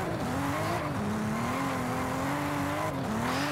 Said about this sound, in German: Da mit der Handbremse kriegen wir es quer.